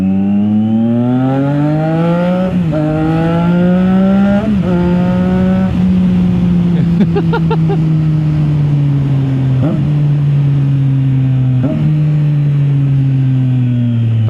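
A Triumph Daytona 660 motorcycle engine drones loudly under load and rises in pitch. Several quick downshift blips with rev-matching break up the note before it settles into a long, steady pull.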